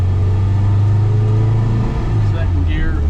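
An MGB GT's engine runs steadily under load in first gear, rumbling and revving toward about 3,500 RPM from inside the car, with someone talking over it.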